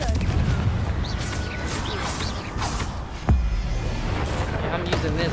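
A Confringo fire spell blast in Hogwarts Legacy, with one sharp, booming burst in the middle over a rumbling battle background, while a player talks.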